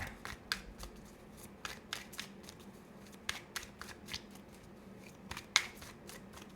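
Tarot cards are shuffled by hand in a quiet room, producing a run of soft, crisp riffling bursts and light slaps, some sharper than others, scattered irregularly with no talking.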